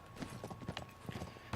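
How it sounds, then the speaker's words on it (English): A horse gallops in the Uncharted 3 video game, a quick run of rhythmic clip-clopping hoofbeats at moderate volume, ending in a louder thump. "Yay, now we're on a horse."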